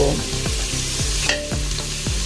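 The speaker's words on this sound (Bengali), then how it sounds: "আমাদের পেঁয়াজ ভাজা হচ্ছে" Onions sizzling and frying in a pan for a steamed fish dish, with a steady crackling hiss and repeated scraping stirs about every half second, close and continuous with no talk.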